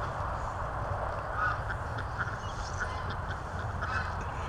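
Geese honking an alarm call among domestic ducks and geese on a farm, several overlapping honks repeating steadily through the stretch over a constant outdoor background, no one speaking.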